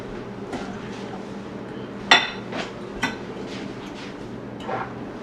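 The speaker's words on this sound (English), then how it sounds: "gotta mix that together with a fork, Hadley." A fork clinks against a bowl while melted brown butter is mixed into chocolate chip cookie dough, giving a few sharp metallic taps and scrapes spaced out over a quiet background.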